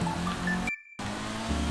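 A Toyota Yaris driven in the video game GTA V, a steady game engine drone with faint tire noise, briefly cut to silence mid-clip before resuming.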